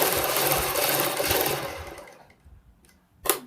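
A sewing machine stitches piping onto a kurti neck in a fast, steady whir for about two seconds, then slows and stops, followed by quiet with a short sharp burst near the end.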